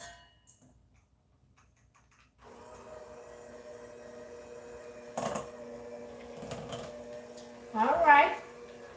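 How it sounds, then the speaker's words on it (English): An electric mixer whirs steadily through peeled potatoes with the ends cut off, starting after a quiet moment and running as a close, moderate motor drone with a few louder knocks and scrapes. "So now I'm gonna take my mixer here and let's mix it up"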